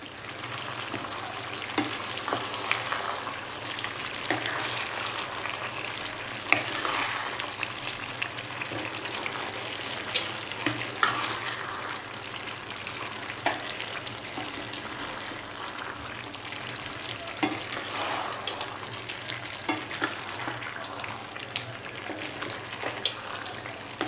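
Steady sizzling of vegetables for Gujarati undhiyu frying in a pan, with soft scraping and stirring sounds recurring throughout; no voices.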